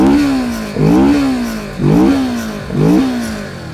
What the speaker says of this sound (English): Let's check out how it sounds.